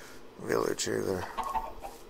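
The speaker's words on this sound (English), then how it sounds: "Chicken." Chickens cluck in a survival video game, a few close squawking clucks heard over a man's brief speech.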